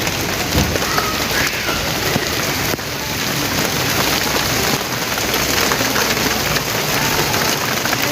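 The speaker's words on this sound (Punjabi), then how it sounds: "ਬਾਰਿਸ਼ ਤੇਜ਼ ਹੋ ਗਈ" Heavy rain pours steadily, a dense close hiss of drops hitting surfaces, with no voices.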